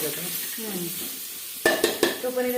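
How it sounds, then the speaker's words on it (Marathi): Spices being stirred and sautéed in a hot pan give a steady close sizzle, then a few sharp clinks of a spoon against the pan near the end. "मसाले ते पण परतून घ्यायचे सगळं मिक्स करून घ्यायचं"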